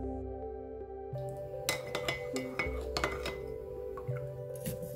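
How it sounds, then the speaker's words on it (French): Spoon stirring sugar and vinegar together in a bowl for a sweet and sour sauce, with a run of light clinks and taps against the bowl over a steady background hum. "on va préparer la sauce aigre douce en mélangeant bien 3 cuillères à soupe de sucre et 2 cuillères à soupe de vinaigre"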